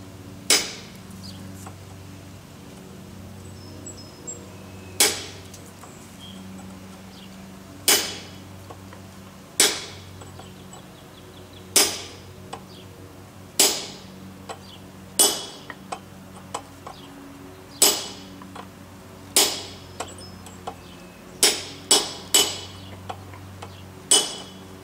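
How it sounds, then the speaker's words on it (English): A blacksmith strikes hot steel with a hammer over a 45-degree fuller to cut a groove for tongs, giving evenly spaced sharp metallic blows that speed into quicker clusters toward the end, close and clear with no talking. "I'm going to take my 45-degree fuller and make a groove right in line with the inside edge of that."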